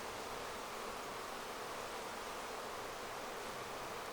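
Honey bees crowding a hive frame while storing honey, making a dense, steady, close buzz that fills the whole clip without a break.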